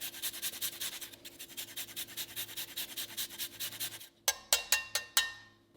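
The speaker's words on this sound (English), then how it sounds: "grate in some ginger" Fresh ginger rubs against a grater in steady, rhythmic rasping strokes, then a few sharper, louder scrapes close up near the end.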